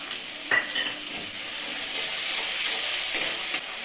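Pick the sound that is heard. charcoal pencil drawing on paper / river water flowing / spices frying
spices frying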